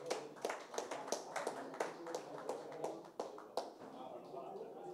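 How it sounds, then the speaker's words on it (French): At an insurance-industry presentation, a modest crowd claps for the teams on stage, a steady irregular patter of individual hand claps at moderate level, with faint voices in the room. "Bravo. On peut les applaudir."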